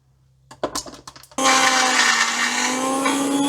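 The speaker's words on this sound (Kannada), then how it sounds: "ಅದಕ್ಕೆ ಇದನ್ನು ಗ್ರೈಂಡ್ ಮಾಡ್ತೀನಿ." A kitchen mixer grinder grinds healthy pav bhaji ingredients, including soya chunks and sweet potato. A few clattering knocks come first, then the motor starts into a loud, steady, high whirring that runs close up to the end.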